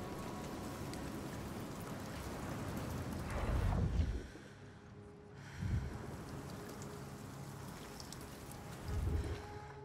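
Steady rain in the video game Senua's Saga: Hellblade II, a dense, continuous hiss of falling drops with three heavier low rumbling swells spaced a few seconds apart and no speech.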